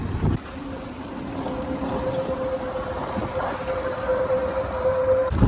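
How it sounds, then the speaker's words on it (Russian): Steady rushing wind noise from a strong gust on an Odesa street blows throughout, broad and fairly loud, with a constant high tone running beneath it; no one speaks. "такой порыв ветра"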